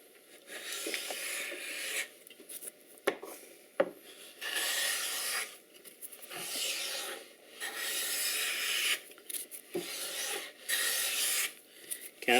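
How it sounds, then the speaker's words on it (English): Wax is rubbed by hand onto a pine candle box in repeated strokes, giving a close, dry rasping sound that comes in bursts with short pauses between them. Nobody speaks. "Wax this."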